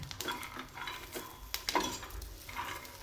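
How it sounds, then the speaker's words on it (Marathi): Peanuts and garlic roast on an iron tawa while being stirred, giving close scraping and rattling strokes over a faint, low sizzle, with no talking. "शेंगदाणे लसूण पण आता आपण छान भाजून घेऊ."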